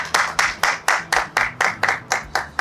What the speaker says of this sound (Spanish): Saludamos con un fuerte aplauso a don Raúl Garrido.